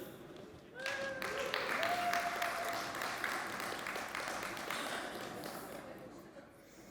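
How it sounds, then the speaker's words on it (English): Audience at the Umbraco Codegarden developer conference applauds a talk, a burst of many hands clapping that swells quickly to a full, fairly close ovation, then tapers gradually, with a voice briefly heard at the start. "So please give a big applause"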